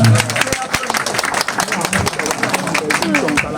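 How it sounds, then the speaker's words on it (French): A crowd at a political community gathering in Gulam claps loudly and continuously, dense clapping mixed with voices, cheering and talk. "Applaudissez encore."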